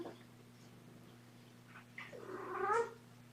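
A young kitten meows indoors, a few soft, quiet calls rising into a louder, drawn-out mew near the end, over a low steady hum.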